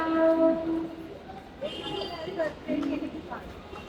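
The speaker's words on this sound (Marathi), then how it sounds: "आमची फास्ट ट्रेन बघा चालली आहे" A fast train rumbles past nearby with a long, steady rush of noise, while voices talk over it.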